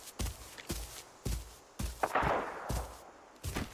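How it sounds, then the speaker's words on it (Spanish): Gunfire in the Arena Breakout tactical shooter game: a run of about seven sharp, evenly spaced shots with booming low ends, moderately quiet overall, with no talking over them. "El disparo es eso."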